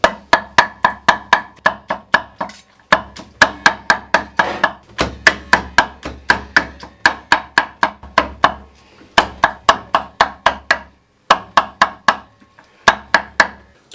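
Cooked tripe for Thessaloniki-style patsas soup is finely chopped on a wooden board, giving rapid, loud, close knife chops in steady bursts with brief pauses between runs.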